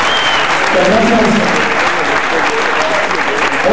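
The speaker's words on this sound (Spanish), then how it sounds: "Vamos a darnos un fuerte aplauso para el alcalde." An audience at a cultural evening event claps for the mayor: loud, dense, sustained applause fills the whole stretch, with a voice heard over it.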